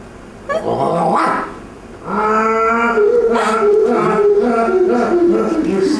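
A dog growls and barks in a domestic comedy scene, loud and close, with rough harmonic yelps after a short pause and continuous snarling through the rest.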